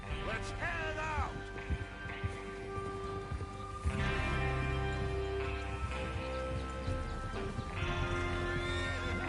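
Horses in Red Dead Redemption 2 whinny and snort while hooves clip-clop steadily, all fairly close, with game ambience and some quiet voices in the background.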